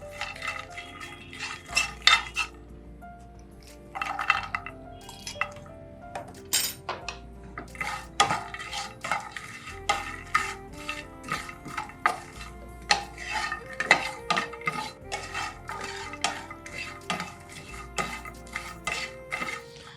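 Makhana stirred into spices and ghee in a metal pan, a spoon scraping and clinking against the pan in an irregular rhythm while the seeds rattle and shuffle, close and fairly loud, with a low steady hum underneath.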